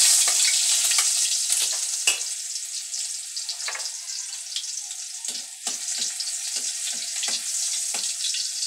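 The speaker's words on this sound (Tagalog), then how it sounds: "So, ayun po, igigisa na po natin ang ating bawang." Garlic sautéing in a hot pan for ginataang manok sa papaya, a bright continuous sizzle with intermittent scraping stirs and short bursts of crackle.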